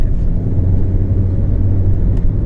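A 1999 Volvo V70R wagon drives along, its engine and road noise forming a steady low rumble from inside the cabin, with no talk.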